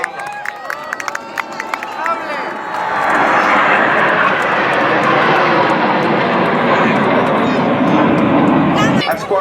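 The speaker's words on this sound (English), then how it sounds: "look to your left, at the sky, the Jaguar deep penetration strike aircraft." Indian Air Force Jaguar deep penetration strike jets fly over a Republic Day parade. After an announcer and crowd noise, the deep jet roar swells and holds loud and continuous overhead, while the crowd murmurs beneath it.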